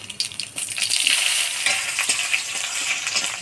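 Onions frying in hot oil in a wok with black cumin seed tempering: a loud, close, continuous crackling sizzle with bright spitting pops and occasional stirring scrapes, no talking.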